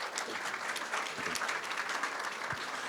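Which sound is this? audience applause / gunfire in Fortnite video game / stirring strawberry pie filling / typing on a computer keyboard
audience applause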